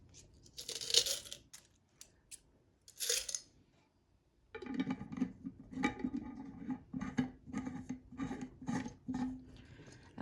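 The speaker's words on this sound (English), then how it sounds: "We'll put the small coin in there." Small coins drop into a container: a few bright jingling rattles first, then a run of rapid metallic clinks and taps as they settle, close and clear without speech.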